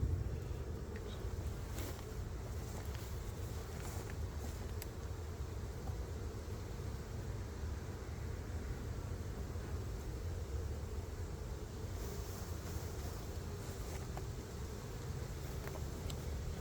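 Honey bees buzz steadily around an apiary hive in hot, humid weather, a faint continuous drone of many wings with a few individual bees passing close by.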